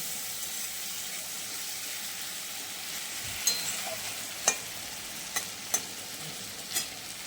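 Prawns dusted with a little turmeric sizzle steadily in hot oil in a pan, a continuous close frying hiss broken by a few sharp spattering pops.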